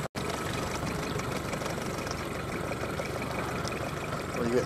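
An 8 horsepower Mariner outboard motor drives a boat on a lake, giving a steady, even engine drone with water and wind noise throughout, close and continuous.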